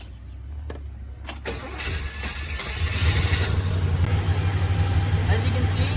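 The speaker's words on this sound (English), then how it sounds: "We're going to see if it actually works by turning over the car" An old car with newly replaced battery terminal connectors cranks over and catches, the engine rumbling up into a steady, loud idle with a rise in revs, heard close by with brief voice and clatter early on.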